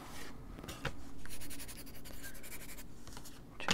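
Short bursts of a scratchy colored pencil rubbing over paper, close and dry, with brief pauses between strokes and a sharp tap near the end.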